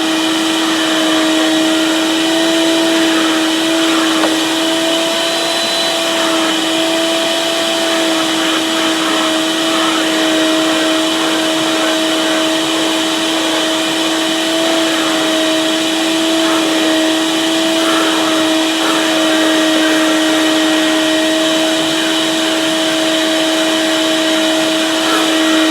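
A Karcher Puzzi 100 spray-extraction cleaner works on a carpet, giving a loud, constant motor whine with steady tones and no break.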